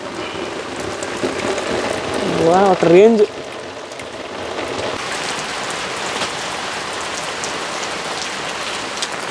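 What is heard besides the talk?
rain falling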